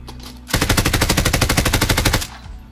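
Sustained automatic gunfire in the video game Modern Warfare, a loud, close burst of rapid evenly spaced shots lasting nearly two seconds over low background rumble.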